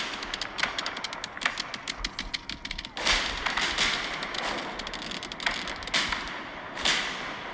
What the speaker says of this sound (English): Sorry, such a short fireworks shot.